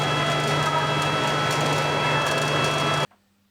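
A Bosch GWS 9-115 P angle grinder runs at a constant loud whine with a steady hum, close by, then cuts off abruptly near the end, leaving a faint low residual hum.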